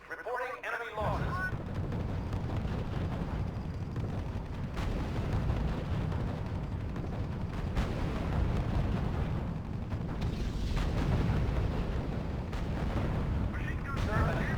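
Artillery booms and gunfire in the WWII strategy game R.U.S.E. roll on continuously as a dense, rumbling battle bed, with faint voices mixed in.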